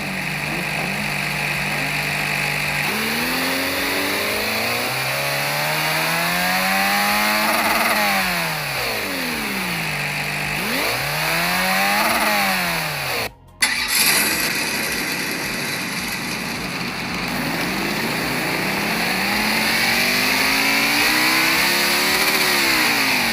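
GT Power RC car sound and light kit cycling through engine sound options, producing a continuous synthetic engine drone that repeatedly revs up and down in swooping sweeps, with a brief break midway, steady and loud with no talking.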